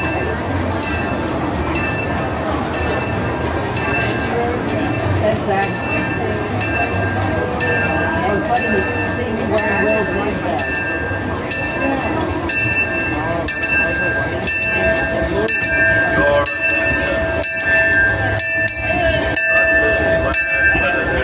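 C.K. Holliday steam train arriving at a Disneyland Railroad station, with a steady rumble and rolling clatter, bell dings and a horn tone, while a loud announcer's voice and people talking sit over it.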